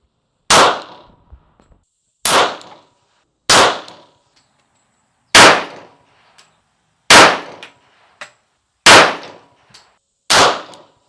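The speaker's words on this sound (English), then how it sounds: "let's start by picking up the trusty 1911 and putting a few rounds through that" Seven sharp gunshots from a 1911 pistol, fired one at a time at a steady pace about one to two seconds apart, loud and close with short echoing tails.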